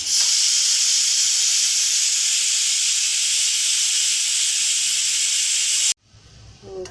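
Loud, continuous steam hissing from a pressure cooker of dal just after the stove is switched off, stopping suddenly, followed by faint kitchen sounds.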